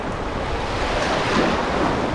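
Baltic Sea surf washes onto the beach at Stegna, a close, steady rush of breaking waves mixed with wind buffeting the microphone.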